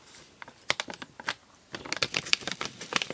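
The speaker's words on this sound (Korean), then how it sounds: "생크림 분말이랑 다크 초콜릿인 것 같고 이렇게 부어주세요." Cream powder and dark chocolate poured from a plastic bag for homemade chocolate: quiet, crackly rustling and small ticks in irregular bursts, close and soft, with no talk.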